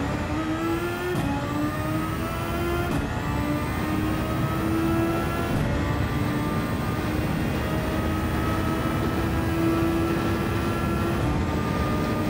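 Engine of a Honda-powered SF19 Super Formula-style single-seater racing a GT1 car in Gran Turismo 7 at Le Mans, a loud high-revving whine that climbs through each gear with sharp upshift breaks, steady and close, with no talking.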